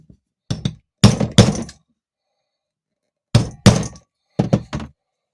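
Sharp tapping strikes come in pairs and small clusters with quiet gaps between, as a homemade stitching fork is hammered to punch hole marks into leather for a knife sheath.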